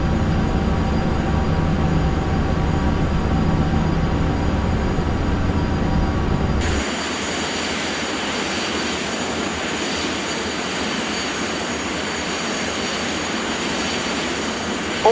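Airliner jet engines in a flight simulator game: a steady, loud whining roar that abruptly drops to a lower, quieter hiss as thrust comes back partway through.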